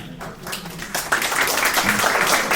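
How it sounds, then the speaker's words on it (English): Town hall audience gives itself a round of applause, clapping swelling in after a second and continuing loudly and close, with some mixed crowd noise. "Please stand up and give yourselves a big round of applause"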